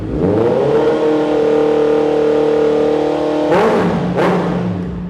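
A 2022 Honda CBR650R with an aftermarket Austin Racing exhaust holds a steady idle, then revs sharply twice, each blip rising fast and dropping quickly, loud and close.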